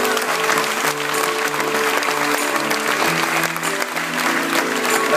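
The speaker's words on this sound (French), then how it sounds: "Je voudrais vous remercier et qu'on applaudisse à ces amoureuses et cet amoureux qui m'ont fait l'amitié d'être là ce soir" A concert audience in a venue applauds the performers of a French song performance, dense sustained clapping from a crowd while a held musical tone lingers beneath.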